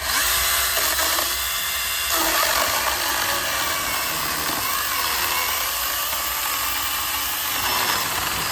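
Chainsaw with an automatic oiler cutting through seasoned oak firewood, a loud steady engine whine running continuously with slight shifts in pitch as the chain bites, close by, with no talk.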